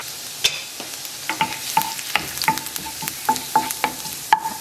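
Garlic sizzles in a pan while a utensil stirs it, producing soft continuous frying hiss broken by repeated light scraping and clicking strokes, fairly quiet and without speech.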